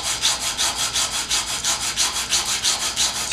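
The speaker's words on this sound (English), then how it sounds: "This is the part we want to sand with the 80 grit sandpaper." 80-grit sandpaper rubbed by hand across a surface in steady back-and-forth strokes, a close, rhythmic gritty scratching at about three strokes per second with no voices.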